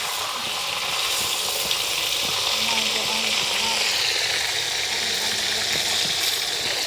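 Steady sizzling of food frying in a pan, a continuous hiss running throughout while people talk nearby.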